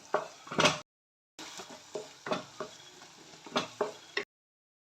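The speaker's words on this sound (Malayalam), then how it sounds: "ഇനി ഇതിൻ്റെ പച്ചമണം മാറുന്നത് വരെ നന്നായിട്ട് ഇളക്കി കൊടുക്കണം" Salt, chili and turmeric are stirred in a pan for a Kerala-style tuna fish curry, with soft sizzling and a series of spoon scrapes and taps, broken by brief silent gaps.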